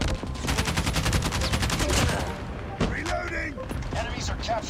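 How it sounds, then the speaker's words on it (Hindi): A gun is reloaded in Call of Duty Mobile during a Headquarters match with the LK24 rifle; a rapid burst of automatic fire is followed by mechanical clicks and clacks of the reload. "रीलोडिंग"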